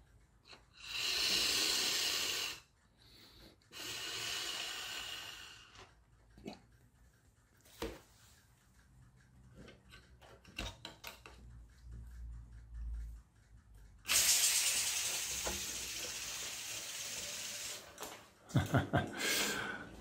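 Balloon deflating through a small nozzle to drive a toy car with a paddle wheel: bursts of breathy hissing of a few seconds each, loudest near the start and again after the middle, separated by quieter clicks and handling noise.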